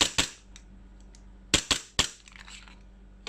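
EMG Hudson H9 airsoft pistol fired in several sharp, snappy cracks: a quick double shot, then two more, and a softer one at the end, loud and close against a quiet background.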